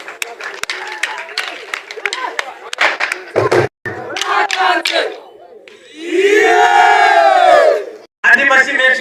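A crowd at a district ceremony in Kirehe, Rwanda, honouring development partners, breaks into rapid clapping, then loud cheering and high ululating calls. The sound is close and dense, with brief gaps between bursts.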